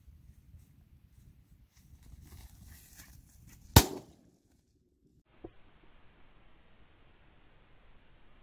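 A single sharp shotgun blast rings out during a quail hunt in Pakistan, loud and close, with a brief echo trailing after it and soft rustling and footsteps in the quiet field before and after.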